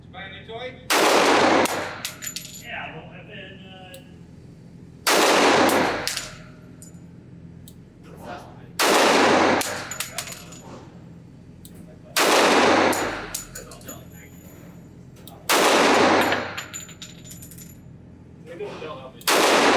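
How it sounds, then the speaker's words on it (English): Five loud, sharp pistol shots from a Cabot Guns Apocalypse Damascus steel pistol at an outdoor range, fired singly at slow, fairly even intervals with quiet gaps between. "I'm going to set the target out at 25 yards, put 2 more magazines through this"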